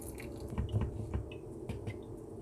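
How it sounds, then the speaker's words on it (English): Water is poured lightly onto the soil of a potted Dieffenbachia, giving soft irregular drips and wet squishing patters up close, quiet and without speech. "I'll water this very lightly."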